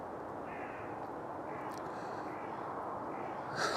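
Crows caw faintly outdoors, a few scattered calls rising over a steady hiss of background noise, distant and quiet.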